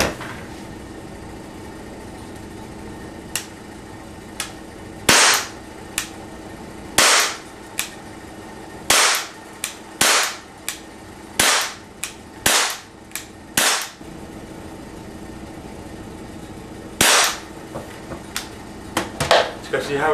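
A Walther/Umarex CPSport air pistol fires Crosman wadcutter pellets at a 25-foot target, giving a series of sharp, irregularly spaced pops with faint handling clicks between shots.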